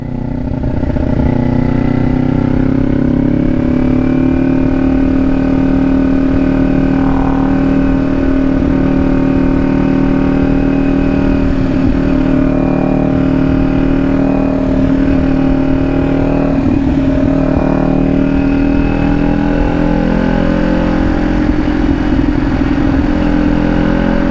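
A Kawasaki Ninja 400 engine drones loud and close in third gear, holding a high, steady rev near 7,000 RPM with a slight rise in pitch and constant wind rush. No voices.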